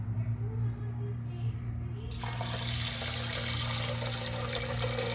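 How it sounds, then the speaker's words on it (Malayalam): Three cups of water poured from a glass onto washed rice for pongal, a sudden bright rushing stream that starts partway through and keeps flowing over a low electrical hum. "ഇതിൽ നമുക്ക് ആ അരിയെടുത്ത ഗ്ലാസ്സിൽ തന്നെ നമുക്ക് 3 കപ്പ് വെള്ളം ഒഴിച്ചു കൊടുക്കാം"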